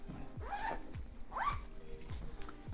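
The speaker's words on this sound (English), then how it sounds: "And that's all you're getting into this bag too, with it being easy to zip." A packing cube stuffed with clothes is zipped shut in several quick, rasping pulls, each a short close-up burst with brief pauses between, against a quiet room.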